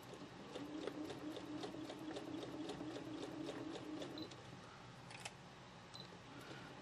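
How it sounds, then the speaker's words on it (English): A domestic sewing machine stitches quilt squares for a Kimberbell seasonal quilt, a soft steady rapid ticking run that stops after a few seconds, followed by quieter isolated clicks. "Stitch a few stitches. Back tack. Lock it into place and stitch forward."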